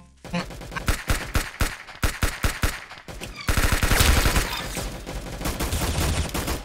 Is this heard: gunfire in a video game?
yes